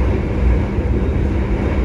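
Argo Lawu executive-class train travelling from Solo Balapan to Gambir, Jakarta, with a steady, loud low rumble of carriage and track noise that runs unbroken throughout.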